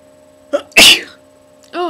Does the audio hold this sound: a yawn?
yes